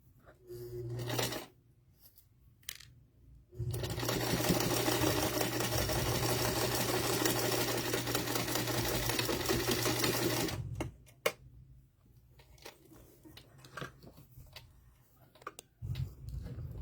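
A home sewing machine stitches a quilt block seam in one steady, fairly loud run of rapid mechanical ticking, with shorter bursts of stitching before and after and quiet handling noises between.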